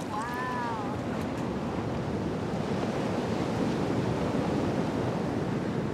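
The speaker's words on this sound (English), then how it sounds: "these waves have traveled for thousands of miles from a storm here off Antarctica, all across the ocean" Ocean waves breaking in Fiji, a continuous loud roaring wash of surf with wind noise on the microphone, with a brief whistle-like tone near the start.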